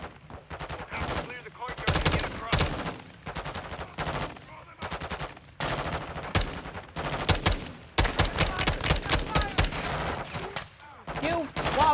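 Dense automatic gunfire and scattered single shots in a Modern Warfare 2 campaign mission, coming in loud close bursts with brief pauses and some overlapping battle noise.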